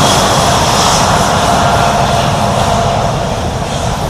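Large jet airliner engines roar loud and close as the plane rolls along the runway at Ahmedabad airport, a dense continuous rumble holding steady throughout with no talk.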